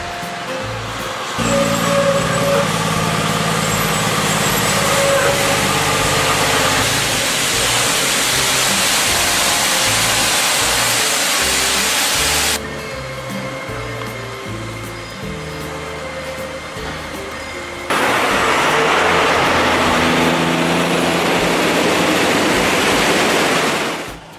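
A heavy Terex MT 6300 haul truck works through a tight turn near a fence, its engine a loud, steady broadband roar with a low throb that drops in the middle and surges back near the end.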